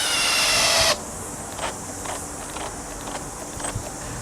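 Makita drill driving a small-headed screw on its top clutch setting, a brief loud whir that stops abruptly, followed by faint clicks and handling noises.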